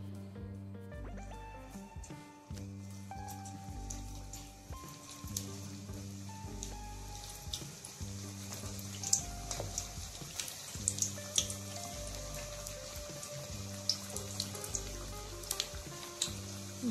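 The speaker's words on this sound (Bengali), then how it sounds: "এবার এক এক করে ঠেকুয়াগুলো ভেজে নেব।" Thekua frying in white oil in a wok, a soft continuous sizzle with scattered crackles and pops, faint under some background hum and tones.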